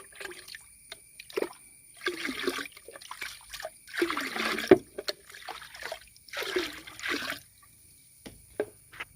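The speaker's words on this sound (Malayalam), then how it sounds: "അത് നല്ലപോലെ മിക്സാക്കി ഇത് വെള്ളത്തിലും ഒഴിച്ചു കൊടുക്കുകയാണ്." A thick compost slurry poured and sloshed into water in bursts, with gurgling, trickling and dripping splashes close by, separated by short quiet gaps.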